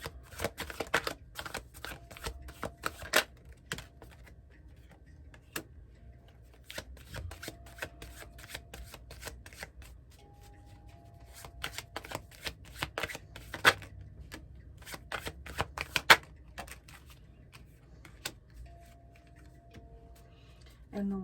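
Repeated riffle shuffles of a deck, quick papery bursts with pauses between, close by, with faint voices murmuring in the background at times.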